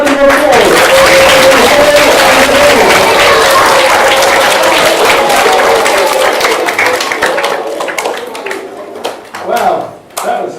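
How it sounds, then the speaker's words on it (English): A live audience bursts into sustained applause after a storytelling session, loud dense clapping filling the space before gradually thinning out into scattered claps and a few voices near the end. "Give yourselves a round of applause."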